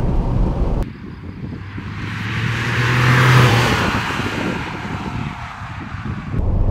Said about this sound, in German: So, jetzt noch ein letztes Mal drauf treten.